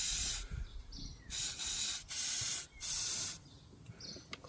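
Penetrating fluid is sprayed as a lubricant onto a 2007 Kia Sorento 2.5 CRDI, in four close, hissing aerosol bursts of about half a second each, separated by short quiet gaps with faint workshop noise.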